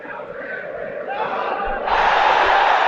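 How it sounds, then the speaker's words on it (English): Football crowd in a PES video game match, a steady broad roar that swells into louder cheering about two seconds in, continuous and fairly close. "the crowd clearly like what they just saw"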